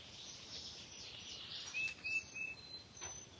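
Faint spring bird chirps and short whistled calls rise over a soft, steady outdoor hiss, a few notes clustered near the middle.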